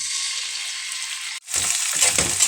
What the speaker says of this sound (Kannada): ಚೆನ್ನಾಗಿ ಇದನ್ನು ಈ ಆಯಿಲ್ನಲ್ಲಿ ಇದನ್ನು ಫ್ರೈ ಮಾಡ್ಕೊಬೇಕು